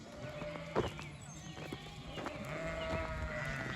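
A flock of sheep moves with goats across a farm field: hooves shuffle and scuff, an animal bleats now and then, and a sharp knock comes early, all under a steady outdoor background.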